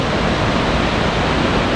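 A waterfall in Snowdonia, Wales roars loud and close, a dense constant rush of falling water that fills everything and never lets up.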